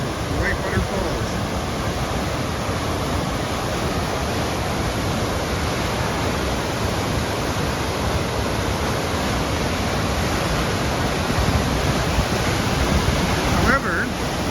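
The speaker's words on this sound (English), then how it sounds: "So here we have the falls, the Whitewater Falls." Whitewater Falls on the St. Mary's waterfalls trail in Labrador roars as a constant, dense rush of water, loud and unbroken, with some wind buffeting the microphone.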